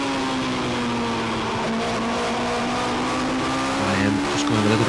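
Race car at Kirkistown circuit sliding as the rear steps out: a loud, continuous engine whine holds a steady pitch and then dips slightly, with a rougher tyre scrub near the end and commentary faintly underneath.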